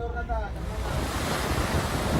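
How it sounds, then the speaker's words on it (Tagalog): Large ocean waves surge and crash against the Bohol coastline, a loud, continuous roaring wash with heavy wind buffeting the microphone. "Naglalaki ang mga alon din ang humampa sa baybayin ng ilang bayan sa Bohol"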